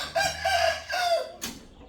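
Rooster crowing twice in drawn-out, loud calls close by, followed by a short burst of clucking, with no talk over it.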